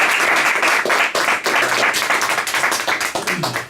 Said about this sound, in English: So let's give a round of applause to Enrique, right?